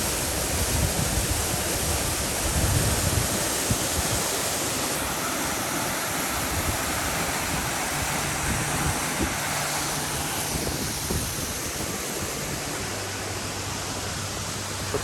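Seven Falls in Colorado Springs, a stepped cascade of clear water, roars as a broad continuous rush, with a low droning hum rising faintly underneath in the latter half and no talking.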